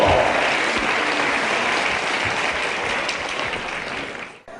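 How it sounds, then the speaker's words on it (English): Sustained audience applause after a heavyweight professional wrestling bout, steady dense clapping from a large crowd that holds for several seconds before cutting off abruptly. "I'm sure you give both these boys a very big round of applause"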